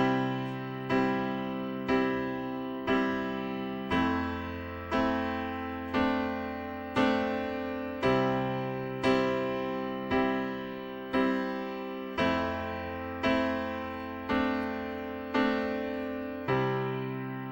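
Piano playing a simple three-chord progression, each chord struck in an even, steady rhythm and left to ring, clear and close with no talking.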